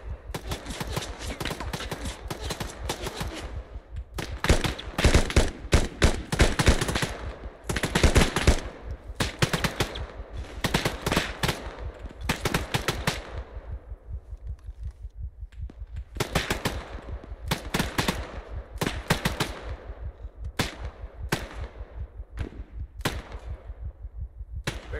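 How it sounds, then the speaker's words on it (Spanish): Gunfire in ArmA 3 rattles in repeated bursts of automatic fire, loud and sharp, separated by short quiet gaps. "¿Quién está disparando?"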